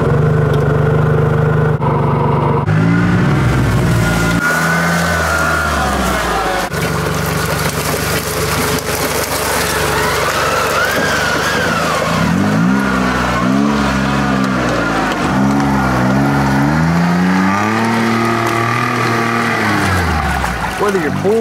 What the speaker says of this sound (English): we're testing the Gator, John Deere Gator